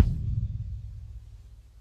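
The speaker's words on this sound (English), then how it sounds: "So I guess this is the kick drum." A single deep, booming low drum hit with a long resonant tail that slowly fades, heard alone.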